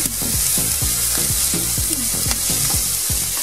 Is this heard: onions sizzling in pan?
yes